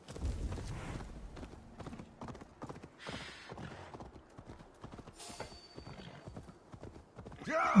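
Hoofbeats of a horse galloping in Assassin's Creed Valhalla as it heads toward Northumbria, a steady rapid clip-clop running throughout, with brief snorts and a whinny, close and moderately loud.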